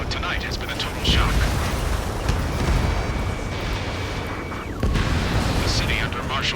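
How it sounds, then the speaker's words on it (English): Gunfire and explosions rumble through a city under martial law in the combat flight game Ace Combat 7, heavy booms and roaring blasts over a dense, continuous din, with voices talking over the fighting. "Gunfire and the roar of jets echoing through the streets"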